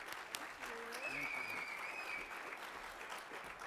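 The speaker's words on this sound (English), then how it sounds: "let's give her a warm round of applause and get her started" Warm applause from an audience at a research talk, a steady soft clapping with a voice or tonal sound briefly rising above it partway through.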